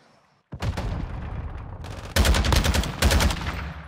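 Bursts of rapid automatic fire from a Lachmann 762 rifle in the video game Modern Warfare II, loud and close, with a short burst followed by two longer sustained volleys and no talking.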